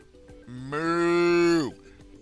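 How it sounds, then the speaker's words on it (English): A single long, drawn-out moo of cattle swells in, holds steady and loud for about a second, then drops off sharply over a quiet background. "Moo!"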